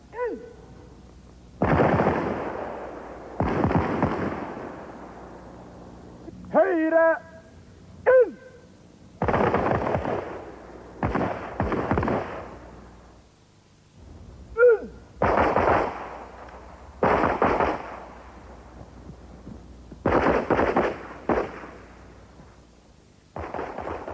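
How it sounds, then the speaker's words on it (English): Norwegian Jäger special forces soldiers fire sidearms and automatic rifles during a marching marksmanship test, with roughly a dozen sharp, loud shots and short bursts spaced irregularly, each ringing briefly before the next. "Using a marching and firing technique, the soldiers are judged on shooting accuracy in both sidearms and automatic rifles."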